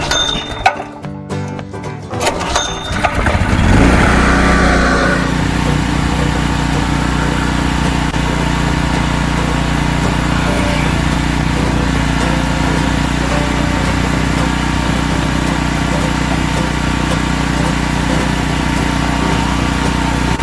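A Wacker portable generator fires up after a few seconds of clattering handling noise, then its small engine settles into a loud, steady, close running drone.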